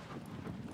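Hoofbeats of a horse galloping across open ground in the video game Shadow of the Colossus, a steady rapid clip-clop rhythm, fairly close and continuous throughout, with no talking.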